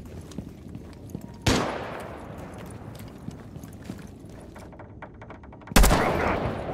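Two sharp, loud shots in a video game, one early and one near the end, each followed by a long echoing tail, with faint scattered crackle and background clatter between them.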